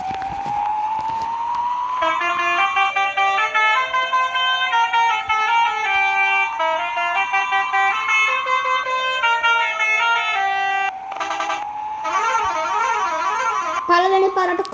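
Vehicle horns honk repeatedly on a road near Polhena beach in Matara, Sri Lanka, with rising siren-like tones and melodic horn patterns sounding loud and continuous over steady traffic noise.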